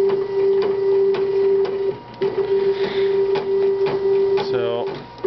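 A belt-driven machine runs with its shaft turning, giving a steady, loud mechanical whine with regular clicking ticks, a brief dip in the drone and a fast rattling burst near the end.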